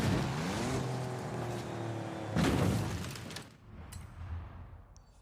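Race car engines rev up at the start of a racing video game, loud rising engine tones with a burst of noise, then fading away to quieter sound.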